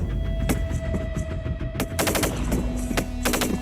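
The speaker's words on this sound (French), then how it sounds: "opening fire to provide cover for the infantrymen" Gunfire during a Swiss military exercise: loud rapid bursts of automatic fire and scattered single shots over a low rumbling hum, close and continuous, with no talk.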